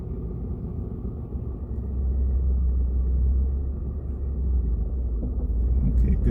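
Manual transmission car creeping forward in stop-go driving practice, a steady low engine rumble that swells slightly as it pulls away and holds, close and continuous with no talk.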